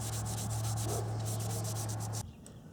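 Rag rubbing dirt off a part of a 2002 Honda XR100 dirt bike, a steady close scrubbing that runs for about two seconds, then stops, leaving quiet room tone.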